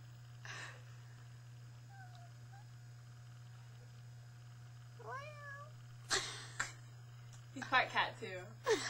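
A cat meows a few times, faint and rising-pitched, set against a steady low hum, with brief noisy bursts and some voices nearby toward the end.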